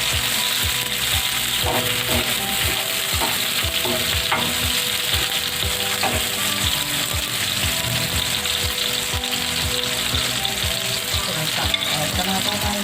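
Crushed ginger and garlic fry in hot oil for fish masala, a continuous loud sizzle with rhythmic scraping and clinking from a stirring spatula against the pan throughout.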